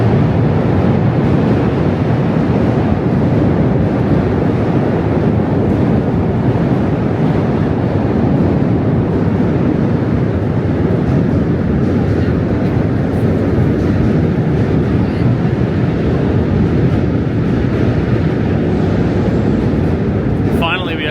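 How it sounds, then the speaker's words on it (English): A loud Manhattan subway train rumbles steadily and continuously for the whole stretch, a dense roaring wash of noise with no pauses, like a train passing close by or riding underground. "Subway is loud."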